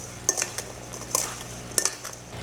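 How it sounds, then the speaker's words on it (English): Flour is mixed into mini apple pie dough in a bowl, heard as a few sharp clinks and taps of a utensil against the dish over a quiet background, spaced irregularly and close by, with no talking. "All you want to do is just mix everything up."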